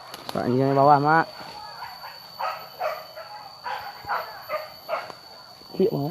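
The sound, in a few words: hunting dogs barking during wild boar hunt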